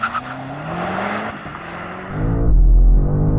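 A new hybrid BMW M5 launches hard from a standstill. The engine roars up through the revs, tires squeal briefly, then the note drops with a gear change into a loud, deep surge of acceleration, heard close from inside.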